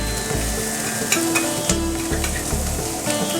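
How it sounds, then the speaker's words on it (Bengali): Chopped onions frying in oil over a high flame, a steady loud sizzle with occasional clatters of stirring up close, and no voices. "পেঁয়াজ কুচিটা একটু হাই ফ্লেমে ভাজবো, নাহলে পেঁয়াজের জলটা বেরিয়ে যাবে।"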